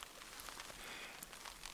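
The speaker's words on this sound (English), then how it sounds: "you can hear the rain is hammering down" Heavy rain hammering down on a pitched tent in a wet August storm, a dense, steady patter of drops on fabric with no talk over it.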